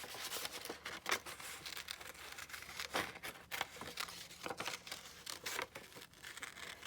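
Paper from an old book being loosely fussy cut with scissors, giving soft, close snips, crinkles and rustles in an irregular rhythm at low volume, with no voices.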